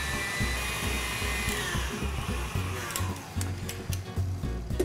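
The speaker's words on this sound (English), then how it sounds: "I'm just going to whisk those up" Egg yolks and sugar are beaten in a bowl with a steady mechanical whirr, continuous and close, as the mixture thickens, with no voices over it.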